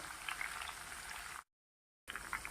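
Grated raw banana shreds fry in hot oil for a fasting chivda snack, giving a steady bubbling sizzle that cuts out abruptly for a short silent gap before resuming with the same even crackle.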